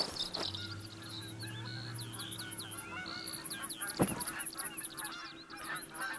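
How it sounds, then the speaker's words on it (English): A flock of geese honks repeatedly as it takes off in the hunting game theHunter: Call of the Wild, a busy run of loud overlapping calls over outdoor ambience. "These geese just flew out of a mountain."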